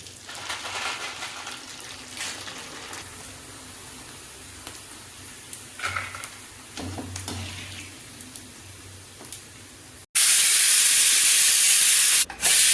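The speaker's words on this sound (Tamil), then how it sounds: "குக்கர் விசில் ஆகிடுச்சு" A quiet bubbling simmer, then a loud, sharp burst of hissing steam like a pressure cooker whistle blasting for the last few seconds.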